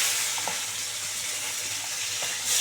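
Chopped onion sizzles as it fries in hot oil tempered with cumin seeds and a bay leaf, a steady close hiss with faint crackles throughout.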